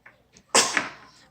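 A single abrupt sneeze bursts out nearby after a couple of faint breaths, then trails off quickly.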